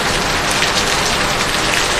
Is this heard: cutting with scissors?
no